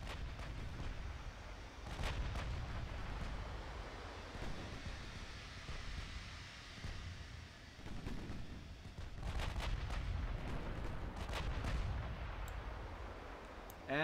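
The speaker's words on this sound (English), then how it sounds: "our 6-inch guns are really starting to do a number on that DD" Naval 6-inch gunfire from warships in the Ultimate Admiral Dreadnoughts game, shooting at a destroyer: repeated booming reports over a steady roar of wind and sea, with several sharp blasts clustered in bursts, loud and continuous throughout.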